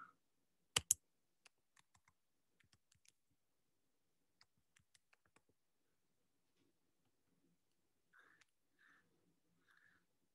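Password typed on a computer keyboard, a sparse run of light, irregular key clicks with one louder tap near the start, faint and close in a quiet room.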